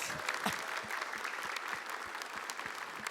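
An audience at a live Indonesian television talk show breaks into continuous applause, a dense patter of many hands clapping at moderate distance for the whole stretch.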